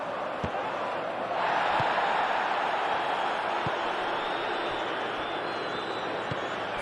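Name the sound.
stadium crowd cheering, from video game PES 2021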